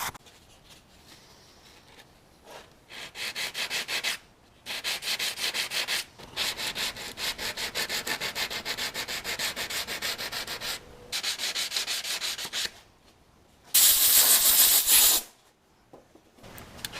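Hand sanding of dried paint on a part for a supercharged Subaru Outback 2.5XT build, steady close scratchy rubbing strokes in several bursts separated by short pauses, with a louder, harsher final pass.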